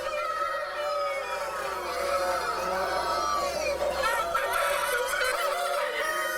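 Caged roosters and hens on a battery farm crow and cluck together in a dense, continuous din, with several birds calling over one another close by.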